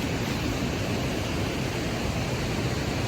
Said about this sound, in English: Got to listen to the sound of the waterfall all night.